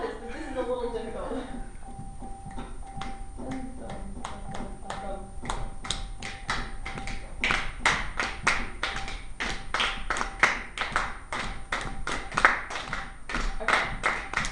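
A secondary school class clapping a rhythm pattern together, sharp group hand claps in an uneven rhythmic sequence growing louder and more unified, with a teacher talking at the start.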